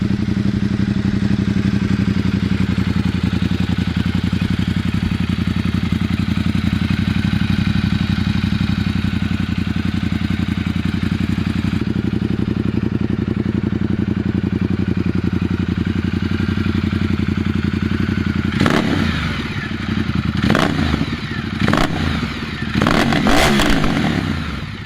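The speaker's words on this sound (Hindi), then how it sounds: "बाइक स्टार्ट करने के लिए आपको इसको ऊपर करना पड़ता है, फिर आप इसको दबा के रखो और ये बाइक स्टार्ट" A Ducati XDiavel S motorcycle engine runs steadily at a loud, close idle for most of the time, then a few sharp revs and clattering bursts break in toward the end.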